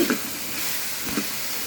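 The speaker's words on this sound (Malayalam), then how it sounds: "ഇനി നല്ലപോലെ ഇളക്കി കൊടുക്കുക." Beef curry sizzles and hisses steadily in a hot pan as it is stirred, a constant broadband frying hiss with a couple of soft scraping stirs near the start and middle.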